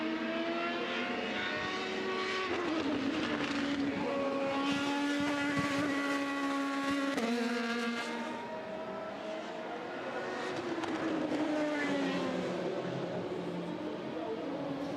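A Le Mans prototype race car in qualifying at the 2018 24 Hours of Le Mans screams past, its engine note rising and falling through gear changes, loud and sustained throughout, with no talk.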